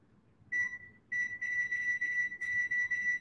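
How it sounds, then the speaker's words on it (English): An oven timer gives a high, pure electronic beep. A short tone comes first, then after a pause a longer run of sustained beeping over quiet kitchen background, with no talk. "we're going to start this timer for about 16 minutes"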